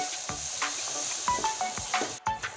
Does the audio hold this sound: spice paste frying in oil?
yes